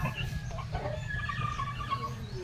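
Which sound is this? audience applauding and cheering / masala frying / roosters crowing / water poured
roosters crowing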